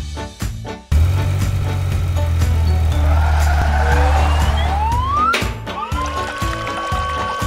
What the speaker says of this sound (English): Orange color car.